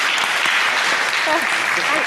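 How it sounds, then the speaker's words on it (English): An audience applauds steadily and loudly at a book festival talk given by a zoologist author, with voices faintly mixed into the clapping. "a big round of applause if that's all right."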